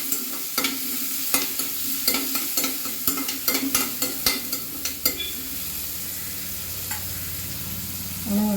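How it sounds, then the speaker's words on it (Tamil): Onions sautéing with salt in a pan, a steady sizzle broken by repeated sharp scrapes and knocks of a stirring spoon, close up, then a calmer sizzle toward the end. "நம்ம உப்பு போட்டு வதக்கும்போது வெங்காயம் சீக்கிரமாக வதங்கிடும்"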